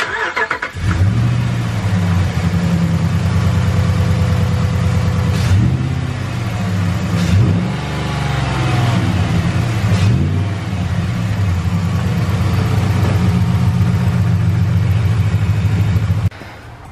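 A Ram truck's Hemi V8 on its factory intake, before a cold air intake install, revs up repeatedly in loud sustained bursts, with strong low rumble and rises in pitch over a steady idle, close by and without talk.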